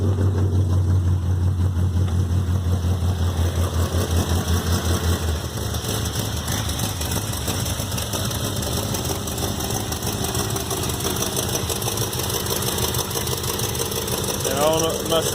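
A 1975 Plymouth Valiant engine idles steadily with a low, continuous rumble and a slight exhaust leak ticking through, close and loud throughout, with faint background noise.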